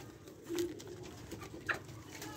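Doves in an aviary cage, a mating pair, give a couple of soft low coos, close by, over a steady background hiss with a brief higher chirp.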